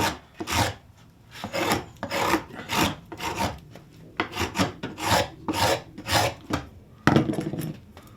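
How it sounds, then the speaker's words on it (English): A spokeshave cuts a bevel around the edge of a wooden Anglo-Saxon style bucket with a long series of rhythmic rasping strokes, close and loud, with brief pauses between passes. "So what I need to do is to cut a bevel sort of around this edge here. So I do it with a spoke shave."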